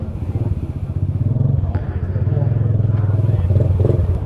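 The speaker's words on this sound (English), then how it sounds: "Oh, a little pit bike." A small pit bike motorcycle engine idles and putters with a rapid, steady pulsing beat, close and fairly loud, as someone talks nearby.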